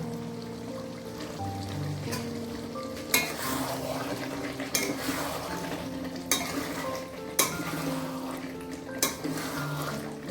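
Pre-fried potatoes being stirred in a sizzling pan with onions and spices, a steady frying hiss broken by repeated scraping clacks of a spatula against the pan at a slow, regular rhythm.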